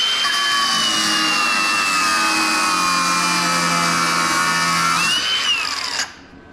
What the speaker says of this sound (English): So we're gonna cut these heads off of these bolts right here.